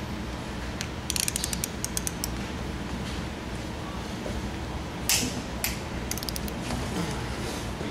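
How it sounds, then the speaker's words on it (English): Bolt on a Hanbell screw compressor being torqued to 75 foot-pounds, with close, sporadic bursts of ratcheting clicks and metallic clatter over a steady low hum. "We're going to make sure we torque this bolt down to 75 foot-pounds."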